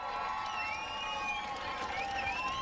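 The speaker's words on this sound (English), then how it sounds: "Big round of applause." A beach crowd at an Ironman Series surf race presentation in Newcastle cheers and applauds the third-place winner, a steady distant wash of clapping and shouts under blustery wind.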